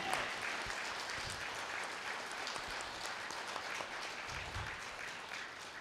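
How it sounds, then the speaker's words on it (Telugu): Sustained applause from a large audience at a spiritual gathering honouring Quantum Life University, a steady even wash of clapping with no talk on top. "ఒకసారి గట్టిగా చప్పట్లు కొట్టండి క్వాంటమ్ లైఫ్ యూనివర్సిటీకి"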